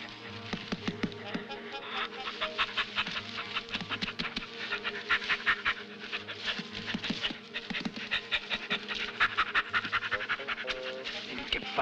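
A man in a 1966 Italian prison-escape comedy imitates a panting dog, with rapid, rhythmic breathy pants running steadily throughout, close and fairly loud over background music.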